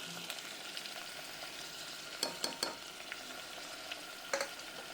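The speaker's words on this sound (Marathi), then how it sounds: "टोमॅटोला आता छान सॉफ्ट होऊ द्या. तेलामध्ये परतून घ्या." Chopped tomato sautéing in oil with fried onions, a soft continuous sizzle broken by a few sharp scraping stirs of a spoon in the pan, close and fairly quiet.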